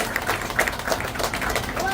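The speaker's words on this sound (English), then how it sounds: "let's just give yourselves a round of applause" Audience applause at an elementary school steel topping-off ceremony, steady clapping from a crowd for about two seconds with some voices mixed in.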